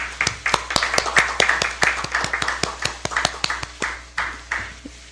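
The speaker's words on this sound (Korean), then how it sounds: "박수 부탁드립니다." Audience applause at a Democratic Party candidate recruitment event in Korea, a fairly small group clapping in a steady, distinct rhythm of sharp individual claps, continuing throughout at moderate volume.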